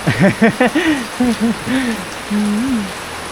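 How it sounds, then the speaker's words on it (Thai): Steady rain hisses down outdoors as a constant background wash beneath a person talking loudly in the foreground. "เพราะว่าเนื่องจากฝนตกแล้วบ่ค่อยได้ยินเสียงเลย"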